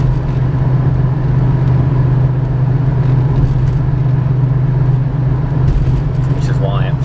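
A 1996 Buick Roadmaster wagon with the LT1 V8 and 4L60 automatic cruises along, its low steady engine drone and road rumble constant throughout, with a voice talking over it near the end.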